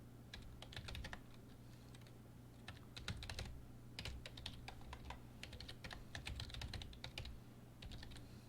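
Steady, quiet typing on a computer keyboard, fast irregular key clicks in bursts over a low background hum, with no voices.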